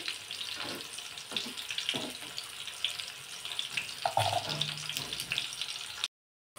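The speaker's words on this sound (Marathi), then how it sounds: "आणि कमी गॅसवरच आपल्याला ही कारली जी आहे ती परतून घ्यायची." Bitter gourds shallow-fry in a little oil over low heat, giving a continuous close hiss with occasional soft knocks and spatters before the sound cuts off abruptly.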